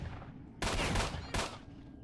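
Two bursts of loud automatic gunfire from S.T.A.L.K.E.R. Shadow of Chernobyl, the first longer and the second shorter, after a moment of quieter background.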